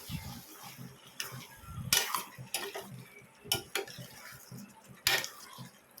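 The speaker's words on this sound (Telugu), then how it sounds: "అంతా ఒకసారి కలుపుకోవాలి" A spoon stirring pomfret dry fish tomato curry in a pan, with irregular metallic clinks and scrapes against the pan over a soft background sizzle.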